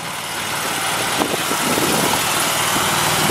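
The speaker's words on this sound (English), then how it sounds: "This little mini skid steer handles 800 pounds." A small track-type mini skid steer loader at an auction runs its engine at a steady idle, a close, even mechanical drone with a few light knocks and clatters layered over it.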